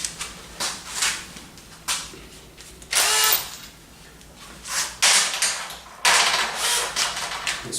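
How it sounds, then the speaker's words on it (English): Power drill boring into pre-made holes in a wooden wedging table frame, a series of short whirring bursts of a few seconds each, separated by brief pauses, close and fairly loud. "So now I can drill straight into those holes."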